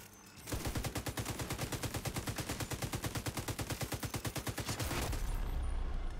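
Sustained light machine gun fire in The Division 2, a rapid, steady stream of loud close shots running for about five seconds before cutting off into a lingering rumble.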